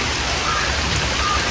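Steady rain falls in a full downpour, pouring over leaves and trees near a home in Sri Lanka, a dense, even hiss with no pauses.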